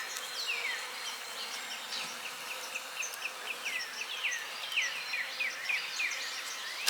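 Honey bees hum around an open hive colony, a soft steady buzz with many short, high, chirping zips passing over it. There is no talk.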